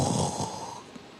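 A preacher's voice imitates the snoring of sleeping disciples in one short, rasping snore that fades out, close and alone.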